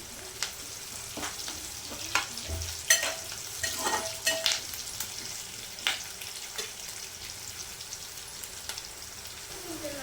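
Onion tempering with tomato and cucumber pieces sizzles and crackles in a hot pan, with scattered pops and soft scraping over a steady hiss.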